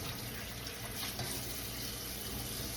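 Tap water runs steadily as something is rinsed under it in a kitchen, a continuous soft splashing rush with no speech.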